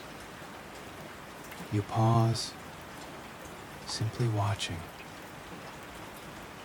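Rain falls outside a 1930s mountain cabin at night as a soft, even hiss that runs steadily throughout, while a calm voice narrates over it in two short phrases.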